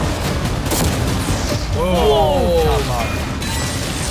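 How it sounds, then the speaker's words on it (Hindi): Cannons firing at and smashing a yacht: heavy booming blasts and crashing debris over a constant roar, with a sweeping whooshing sound in the middle, loud and close. "वो कैनन्स अभी से शॉन की यॉट को तोड़ रहे थे"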